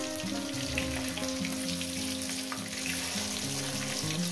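Pieces of rohu fish frying in hot oil, a dense continuous sizzle with steady crackle, close and even throughout, while a faint tonal hum runs underneath.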